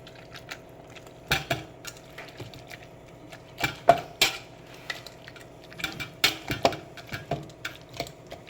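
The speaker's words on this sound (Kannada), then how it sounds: "ಸೊ ನೆಕ್ಸ್ಟ್ ಇದನ್ನು ನಾನು ಮಸಿತೀನಿ. ಈ ರೀತಿಯಾಗಿ ಚೆನ್ನಾಗಿ ಮಸಿಬೇಕು ಹೀಗೆ." Cooked eggplant for sambar is mashed in a metal pot, producing irregular sharp clacks and thuds of the masher hitting the pot bottom, close and spaced with brief clusters.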